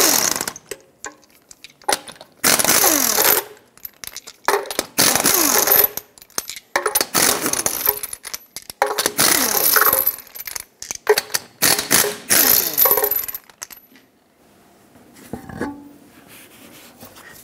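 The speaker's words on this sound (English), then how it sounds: "Use a 21 millimeter socket, remove all six of your lug nuts," An impact or ratcheting tool spins lug nuts off a 1996-2002 Toyota 4Runner wheel with a 21 mm socket, giving repeated loud close mechanical whirring bursts separated by short pauses and metallic clinks.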